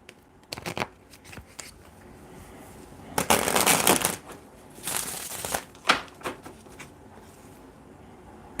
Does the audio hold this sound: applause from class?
no